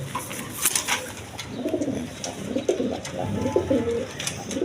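Large farm pigeons cooing at a loft, several soft, low rolling coos repeating close by, with faint chirps and rustling in the background.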